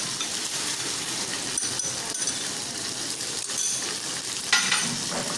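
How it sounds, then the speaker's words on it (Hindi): Mutton liver fries with a spoonful of garlic-ginger paste in a hot pan, giving a dense, constant hiss of sizzling with a few soft utensil taps, close up and without speech. "इसको भी हम अच्छे तरीके से इसी कलेजी के साथ फ्राई कर लेंगे।"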